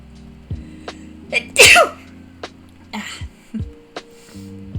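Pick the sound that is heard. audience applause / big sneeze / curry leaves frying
big sneeze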